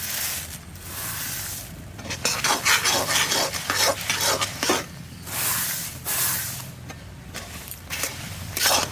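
Fried flattened rice is stirred into melted jaggery in a pan to make nadu sweets, with repeated close scraping strokes of a spatula and a soft sizzle in bursts of rhythmic stirring, no talking.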